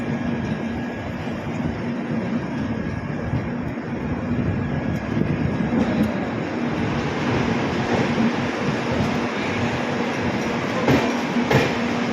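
A train rumbles steadily at close range at Ujjain railway station, a loud, continuous mechanical roar with no voices and no breaks.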